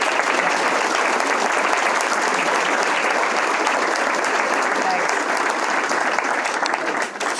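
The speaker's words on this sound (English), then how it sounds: "let's give Dr. Mester another round of applause." Sustained audience applause for a guest speaker at a lecture series event, dense and steady from start to finish with no pauses, filling the room evenly at close range.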